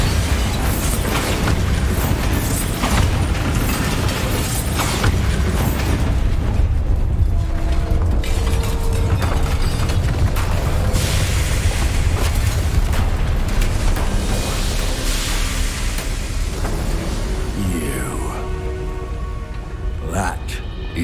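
Bombarda blasting spell in Hogwarts Legacy, rumbling explosive booms over a dense, rain-like crackle of falling debris, loud and continuous throughout.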